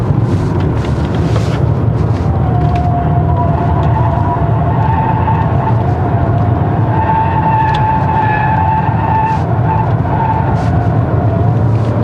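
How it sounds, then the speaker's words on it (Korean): A Maserati Ghibli GT Hybrid's engine hums in a deep, bass-heavy drone as the car accelerates, heard steadily and fairly loud throughout from inside, with a faint rising tone and no talk. "엔진 소리도 기본적으로 베이스 톤이긴 한데 뭔가 더 베이스 톤이 되는 것 같아요"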